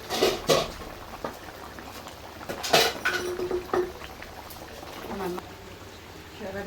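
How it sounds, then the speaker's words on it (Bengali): A lid lifted off a pot of cooking Morma sea fish: close metallic clatter and clinks against the pot amid soft bubbling, with a few scattered kitchen knocks. "সরাটা তুলে নিচ্ছি"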